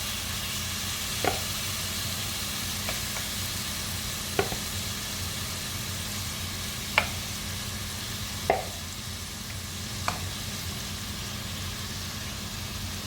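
Seasoned shrimp fry in a pan for seafood fried rice, with a steady, moderate sizzle that runs throughout and a few sharp pops spaced several seconds apart. No one speaks.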